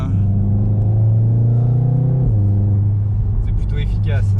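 Volkswagen Golf 7R launching from a standstill with launch control and four people aboard: a loud, close engine drone climbs steadily in pitch, drops sharply at a gear change, then pulls again while voices chatter near the end.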